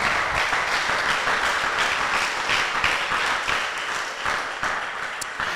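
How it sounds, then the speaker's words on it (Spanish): A church congregation gives a long, sustained round of applause during a sermon, dense clapping that stays loud for several seconds before easing slightly toward the end. "Dale ese aplauso al Señor."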